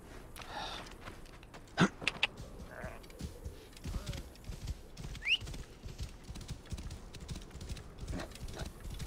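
Horse hooves in the Assassin's Creed Origins video game, a steady clip-clop gallop heard faintly as the horse runs off, with snorting breaths and light game ambience.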